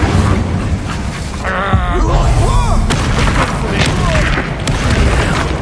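Expulso explosion spell in Hogwarts Legacy during a chaotic duel, booming blasts amid continuous loud combat noise, with groaning and grunting voices layered over the rumble throughout.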